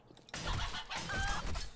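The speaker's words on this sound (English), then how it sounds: "We're gonna kill some chickens with a nail gun." Chickens in the survival video game 7 Days to Die clucking softly, a short run of clucks over a low rumbling game ambience.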